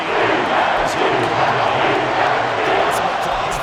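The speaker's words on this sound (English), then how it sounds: "Some applause for the defense there." A steady crowd roar and cheering swells through a Madden NFL 24 American football video game stadium, loud and continuous for a few seconds.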